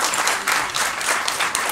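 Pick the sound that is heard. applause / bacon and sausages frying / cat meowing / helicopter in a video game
applause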